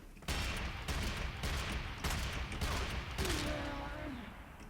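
Shots ring out in Warframe, with about five heavy, evenly spaced gunshots booming close and loud, followed by a brief whistling tonal effect as the last shot fades.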